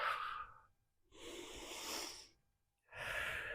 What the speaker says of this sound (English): Take 3 more breaths here